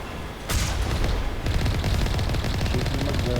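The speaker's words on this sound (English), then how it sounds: "Shooting my gun on the distance." Gunfire in the video game Mass Effect, a burst of rapid automatic shots starting abruptly and continuing as a dense, rattling stream of reports, loud and close with no talk over it.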